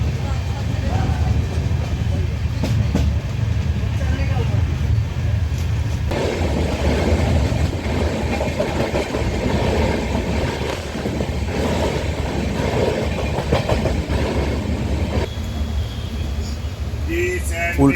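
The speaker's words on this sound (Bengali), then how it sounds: "ট্রেন কিন্তু ইতিমধ্যেই ছেড়ে দিল" A train pulling out of Kolkata station and moving, heard as a continuous low rumble and rattle from inside, with a voice talking over it.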